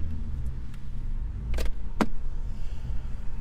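Ford Falcon AU turbo ute engine idling steadily with a low, continuous rumble, broken by a couple of brief sharp clicks or knocks near the car.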